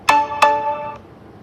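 A phone rings with two sharp, bright electronic tones in quick succession, each ringing out briefly before fading, loud and close with no talk.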